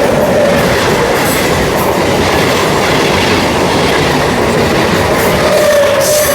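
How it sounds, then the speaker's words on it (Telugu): A MEMU passenger train on the Visakhapatnam–Kakinada line rumbles past close by, with steady loud clickety-clack of wheels on rail joints and a faint brief wheel squeal, no voices. "మెమో ట్రైన్ వస్తుందండి. Memo train Visakhapatnam Kakinada memo."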